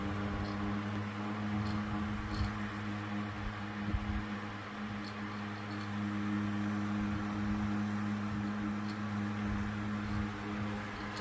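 A 12-inch Lasko high-performance pedestal fan with plastic blades running at medium speed, a steady broadband whoosh of moving air with a constant low motor hum, fairly quiet and unbroken throughout.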